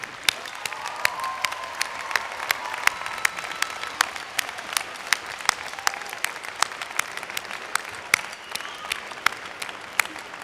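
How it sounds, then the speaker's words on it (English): A law school commencement audience gives sustained applause for friends and family, a dense bed of clapping with sharp individual claps standing out near the front, continuing evenly throughout. "give a hand of applause to those friends and family that helped you get where you are today"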